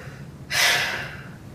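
A single scuba regulator breath during a demonstration of diving air-supply equipment: one sharp, hissing inhale or exhale lasting about a second, close and fairly loud over a quiet room background, with no talking.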